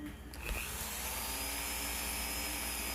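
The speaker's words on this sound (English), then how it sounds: "Good thing is that I have this Dremel with a buffing wheel." A Dremel rotary tool with a buffing wheel polishes the scales of a Chris Reeve Small Sebenza 21 knife, starting up with a brief rise and then holding a steady high whine, close and quiet, with no talking.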